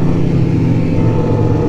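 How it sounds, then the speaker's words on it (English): The Fuji 500cc liquid-cooled engine of a 1999 Polaris Indy Classic 500 touring snowmobile runs close and loud in a steady drone, a cold engine holding a constant pitch with no voices. "It's the Fuji 500cc liquid cooled engine."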